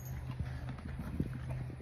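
A horse's hooves clip-clop and shuffle nearby as it moves about trying to reach food from a bucket, a few irregular soft thuds at close range with no talk.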